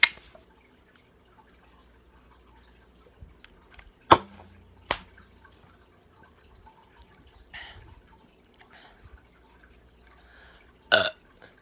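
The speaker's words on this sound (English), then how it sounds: "I'm gonna do 10 burps." A man burps several times, each one a short, separate burst spread out over long quiet pauses, with a louder, longer burp near the end.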